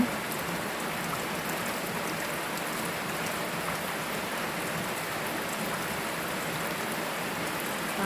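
Steady rain pours down in a dense, even hiss while young elephants play in it, with no voices.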